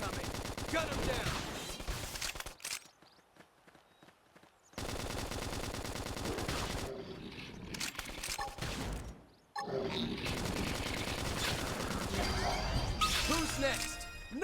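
Rapid gunfire and explosive combat effects from the video game Xenoblade Chronicles X come in loud, dense bursts, separated by two brief quieter gaps, with shouted game voices mixed in.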